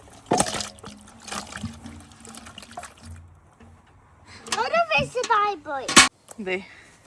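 Freshly caught fish are shaken out of a net into a container, giving a few sharp wet slaps and splashes in separate bursts, with voices talking in between.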